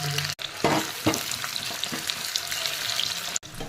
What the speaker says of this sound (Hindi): पियाजटा को हमको हाई फ्लेम रे भाजिबार